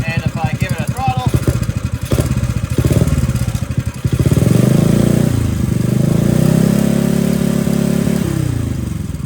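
A Tillotson small engine on a drift trike sputters and chugs, then revs up under throttle into a loud, sustained buzzing drone held close by, with someone speaking over it early on.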